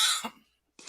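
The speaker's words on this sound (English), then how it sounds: "If she can respond over the coughing" A woman gives one close, harsh cough that fades into a short throaty rasp during a casual live makeup hangout with friends, followed by a brief faint sound.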